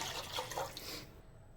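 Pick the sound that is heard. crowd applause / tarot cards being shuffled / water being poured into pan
water being poured into pan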